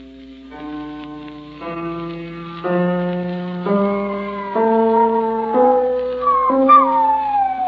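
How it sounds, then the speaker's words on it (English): A big, fat spaniel howls along with a piano, its drawn-out wavering cries rising and sliding over a series of sustained notes that step from chord to chord and grow louder toward the end. "He was howling along at the piano the way he always did."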